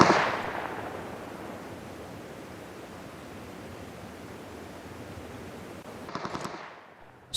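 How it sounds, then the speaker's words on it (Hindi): Scoped gunfire in the mobile game PUBG Mobile: a loud shot opens into a long rushing noise wash, then a brief rapid burst of shots near the end, with no talking. "फिर स्कोप से फायरिंग करता हूँ"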